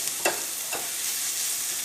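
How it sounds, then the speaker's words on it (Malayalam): Bitter gourd frying in an open pan over a medium flame: a steady, soft sizzle with two brief stirring scrapes near the start. "ഇനി നമുക്കൊരു മീഡിയം ഫ്ലെയിമിലിട്ടിട്ട് ഈ പാവയ്ക്ക നമുക്ക് പതുക്കൊന്ന് മൊരിച്ചെടുക്കാം"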